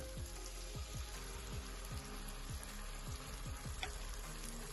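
Chicken pieces for chilli chicken sizzling and crackling in a hot pan, a quiet steady fry with repeated small pops and spatters.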